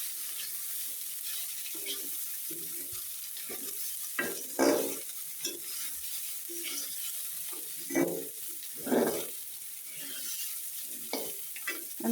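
Koi fish frying in a pan with oil for a curry with potato and tomato, a steady soft sizzle broken by louder spatters and stirring scrapes.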